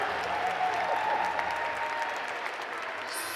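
A graduation crowd at a commencement ceremony applauds, sustained dense clapping filling the hall evenly and continuously at moderate volume.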